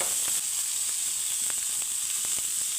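Tomato slices sizzle in a little oil for a homemade burger, a steady, close frying hiss with scattered small pops and crackles.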